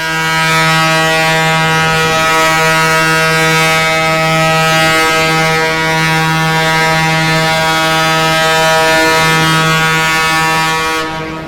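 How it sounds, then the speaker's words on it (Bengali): A US Navy coal-carrying ship underway sounds a long, loud, sustained low horn blast, a steady droning tone that holds for the whole stretch before tapering at the end. "ইউএস নেভি অর্থাৎ মার্কিন যুক্তরাষ্ট্রের নৌবাহিনীর একটি জাহাজ এগিয়ে"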